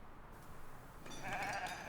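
A sheep bleating in a sheep pasture in the game Foundation, one short faint bleat rising over quiet ambient background, no talking.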